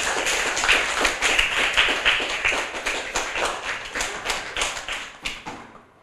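Children clapping for a reading of a book, a brisk burst of sharp overlapping claps that holds steady and then thins out and fades toward the end.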